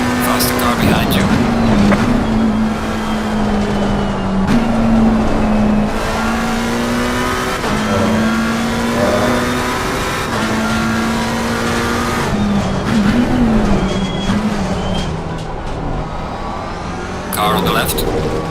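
Race car engines roar at Silverstone in a VR racing game, a steady, loud, near engine drone with shifts in pitch and occasional tire noise, with talk over it.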